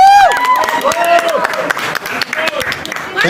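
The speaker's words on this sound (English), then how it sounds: "A big round of applause." Crowd applause and cheering at a film pre-release event in Mumbai swell under loud amplified music and tonal sweeps, energetic and close, with clapping blending into the noisy mix.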